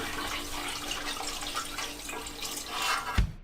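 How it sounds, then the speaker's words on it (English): Fish broth pours steadily through a colander into a saucepan, a continuous splashing liquid stream that swells near the end before a brief clunk as it finishes. "we put the colander on the saucepan and pour fish broth through it"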